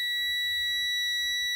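Steady electronic warning buzzer from a truck's air brake system, sounding as air pressure is pumped down to around 60 psi; a continuous, unbroken high tone held throughout with no talk.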